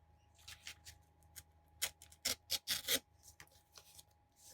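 Paper is cut out with scissors for a wallpaper journal, giving a string of close, crisp snips and rasps that grow louder and denser midway before thinning out again, alone without any talk.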